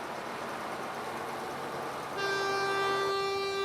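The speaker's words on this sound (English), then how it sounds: "The train was the major urban link between Kalgoorlie," A train on the old Kalgoorlie loop line in Western Australia, linking Kalgoorlie, Boulder and the mines, rumbles along steadily, then sounds a long, loud, sustained horn blast for the final second and a half.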